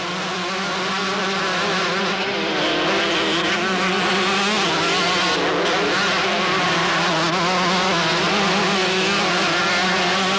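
A Suzuki RM125 motocross motorcycle races down a mountain course at Bathurst, its two-stroke engine buzzing loudly and steadily throughout with slight pitch wavers.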